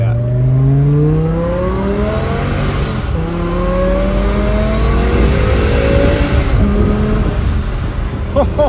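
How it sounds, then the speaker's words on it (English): Supercharged BMW M5 E60 with a V10 engine revving hard, its rising and falling tones sweeping up repeatedly in loud, close bursts, with brief speech underneath. "That is literally like a supercar sound."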